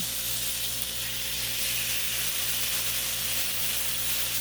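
Marinated chicken thighs sizzle on a Blackstone griddle set just above low heat, giving a steady, dense, close frying hiss that runs unbroken throughout with no talking.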